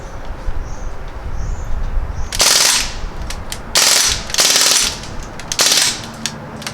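Crosman R1 air rifle firing full auto outdoors at clay targets, several loud rapid bursts of shots with short pauses between them, near and without talk.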